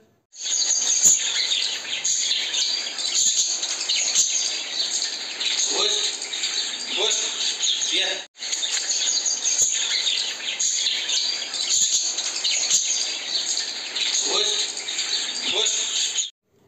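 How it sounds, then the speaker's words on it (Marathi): Steady high chirping and trilling of birds and insects fills the air outdoors in village trees, continuous and fairly loud, with a brief break midway. "मी तुम्हाला ना पक्ष्यांचा आवाज दाखवते"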